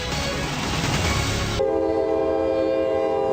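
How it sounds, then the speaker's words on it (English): A loud, rumbling train roars past in Jemison, then a sustained train horn blares over the steady rolling noise. "Trains are an unavoidable part of life in Jemison."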